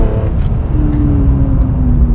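BMW M3 CSL with SMG gearbox driving on a slightly damp road in M-Track mode, its engine and airbox giving a steady, loud, rumbling drone with a rising tone throughout.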